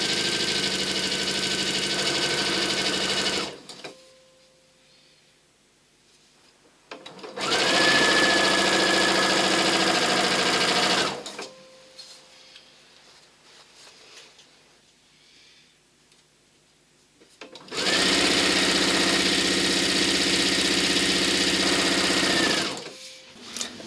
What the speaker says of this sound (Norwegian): Og jeg klipper fortløpende remsene fra hverandre, og fortsetter å sy.